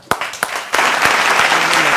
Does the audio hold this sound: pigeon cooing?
no